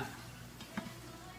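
Stock being stirred as it fries in a pan, a soft scraping stir over a faint steady sizzle, quiet and close, with one brief louder clink midway.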